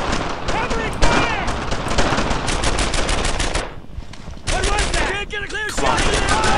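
Rapid machine-gun bursts and rifle shots crackle nearly nonstop in the World War II shooter Brothers in Arms: Earned in Blood, loud and close, with a brief lull before the firing resumes and soldiers shouting under it.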